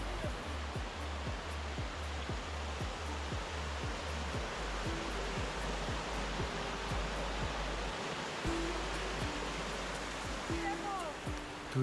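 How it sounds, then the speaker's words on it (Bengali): A waterfall pours down behind a large rock in a steady, even rush of water, with intermittent low thumps and clicks over it. "তো তা পাথরের পেছন দিয়ে ঝর্ণাটা নেমে আসছে"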